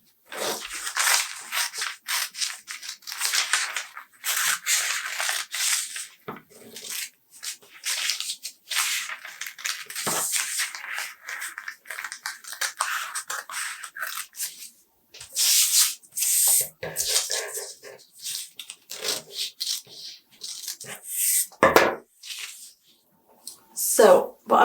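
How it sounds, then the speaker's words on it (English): Cutting into the pattern lines of a dress draft makes dry, scratchy rasps in irregular bursts with short pauses, close and moderately quiet. "So I'm going to cut into these lines now."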